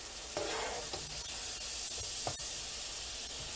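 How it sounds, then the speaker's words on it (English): Onions and celery sautéing in butter in a pan for an oyster stew, a steady, fairly quiet sizzle and hiss with a few soft stirring scrapes. "Sauteing in the butter."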